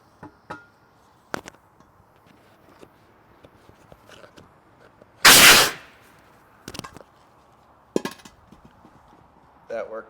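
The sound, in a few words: bead blast seating a tire bead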